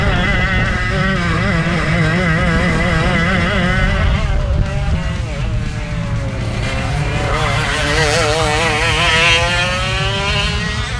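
A racing kart engine screams at very high revs, around 17,000 to 18,000 RPM, loud and close for the whole stretch, its pitch rising and falling as the kart accelerates and lifts through corners.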